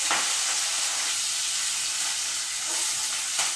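Fenugreek stalks drop into a hot pan of oil with fried chillies and peanuts for a greens chutney, giving a loud, continuous hissing sizzle that stays steady with no voice.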